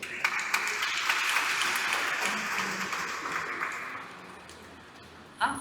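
Warm applause for a newly married couple during a wedding ceremony, moderately loud clapping from the guests that stays steady, then fades out, with one sharp clap near the end.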